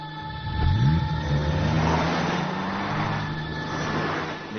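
A car pulls away in a Tamil-dubbed action movie scene, its engine rising in pitch as it accelerates off, then settling into a steady moderate rumble with a broad noisy wash.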